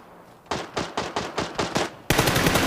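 A rapid burst of about seven gunshots rings out in a shooter video game where a Kar98k sniper rifle is in use, evenly spaced and punchy, followed by a louder, denser blast of fire at the end.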